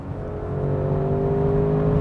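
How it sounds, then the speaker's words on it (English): A 2021 Audi RS6 Avant wagon accelerates in RS mode, its engine and exhaust giving a smooth, steadily rising drone with a clear whirring tone, heard from inside the car with no talk. "I think this deserves a little bit louder exhaust now."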